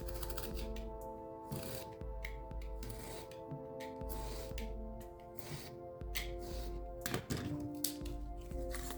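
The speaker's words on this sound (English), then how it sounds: "My blade's starting to get dull, and so it's not cutting perfectly" A dulling craft blade scrapes and cuts through cardboard dungeon tiles along a ruler, giving repeated short scratchy strokes with soft thunks in between, close and fairly quiet.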